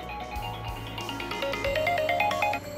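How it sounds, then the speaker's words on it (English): A phone ringtone plays during a Legend of Heroes: Trails of Cold Steel III gameplay session: a clear, steady melodic ring with repeating tonal notes over low game music, with no voices over it. "phone call."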